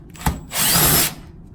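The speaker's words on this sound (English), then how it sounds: "removing these 1/4-inch screws using a 1/4-inch nut driver, attachment on your drill or socket" A power drill with a 1/4-inch nut driver whirs in one short burst, about half a second long, after a brief click, close and loud, removing screws while replacing a Whirlpool refrigerator's condenser fan motor.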